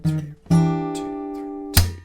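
Fingerpicked acoustic guitar plays a third variation pattern: five clear plucked notes in a gentle, even rhythm, close and solo, each ringing into the next.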